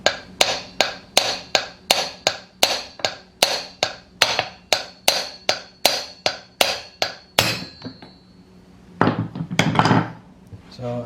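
A hammer taps a Stihl MS310 clone chainsaw flywheel in about twenty evenly spaced, sharp metallic knocks, close and moderately loud, then a short pause and a brief rattling scrape.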